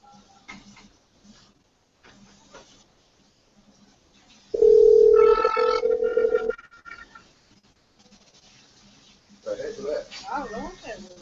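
A Google Hangouts telephone call ringing in, a loud steady electronic tone lasting about two seconds, with faint speech before and after it.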